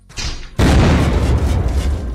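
A C4 charge detonates against a door in the video game Unturned, a loud close boom that erupts suddenly after a brief quieter lead-in and rumbles on with a dense, roaring tail.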